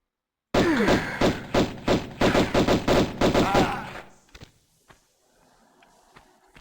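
Pistol fire in the video game Tomb Raider 1 Remastered, set in Natla's Mines: around ten sharp, close shots in a rapid, fairly regular string, then quieter scattered thuds and near silence.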